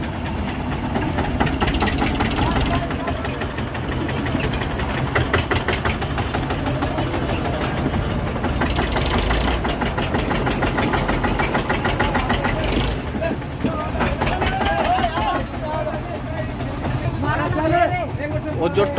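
Two tractors strain to pull a fire-damaged trolley upright, their diesel engines rumbling steadily and loudly throughout, with voices and crowd noise mixed over the running engines.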